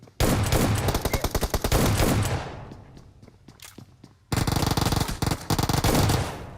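Rapid bursts of gunfire from a shotgun in PUBG Mobile, loud and close, in two volleys separated by a brief lull with scattered single shots.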